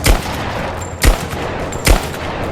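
Gunfire rings out in the action game Rise of the Tomb Raider: three loud, sharp shots spaced about a second apart, each with a booming tail over a steady background rumble.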